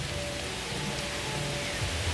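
Steady rain falls over an overgrown cemetery at night, a dense, even hiss with a faint low rumble underneath and no voices.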